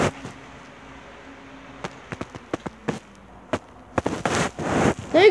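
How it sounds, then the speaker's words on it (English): Sharp, scattered gunshots from Black Ops 1, an erratic burst of separate cracks spaced unevenly over several seconds, then a louder whooshing rush near the end. "weird shooting is going on in this game"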